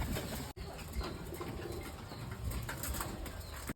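Pigeons at a pigeon house beat their wings close by in a steady, busy flutter that lasts a few seconds. A soft coo is faintly audible beneath it.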